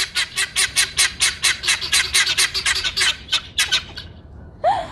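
Loud, rapid series of harsh honking calls from a peafowl or guinea fowl at a zoo, repeated in quick bursts for several seconds before stopping abruptly.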